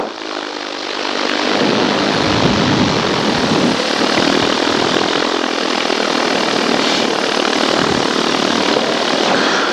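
A paramotor engine roars loud and steady at takeoff, a close, constant propeller drone that rises quickly and holds without a break.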